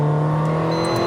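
Weistec-tuned Mercedes-AMG GLA45 with ECU and TCU remap, its engine droning loud and steady at close range with a strong low hum and no talk over it.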